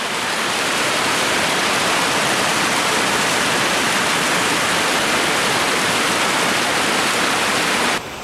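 A winter creek waterfall pouring over icy, icicle-hung rocks, a loud, dense and steady rush of falling water that stays constant until it drops away abruptly near the end.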